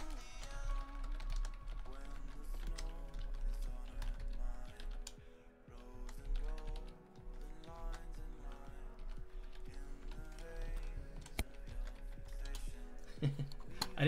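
Typing on a computer keyboard, with rapid clicking keystrokes heard under steady music playing in the background throughout.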